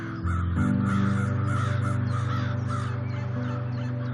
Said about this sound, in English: American crows are coming home to roost.